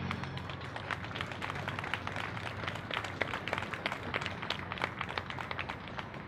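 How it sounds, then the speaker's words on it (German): Crowd at an outdoor peace vigil in Vienna breaking into sustained applause and clapping, a dense steady patter of many hands at moderate distance, continuing evenly without pause. "Gebt euch erstmal selber einen riesen Applaus dafür."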